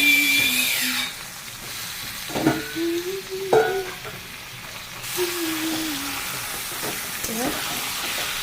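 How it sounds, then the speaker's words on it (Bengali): Chicken pieces frying with whole garlic and onion in a pan over a raised gas flame: a steady broadband sizzle throughout, broken by a few scraping stirs and clanks of a utensil, with brief faint voice sounds. "এবার চিকেন আর রসুন আর পেঁয়াজটাও ভালো করে ভেজে নেব।"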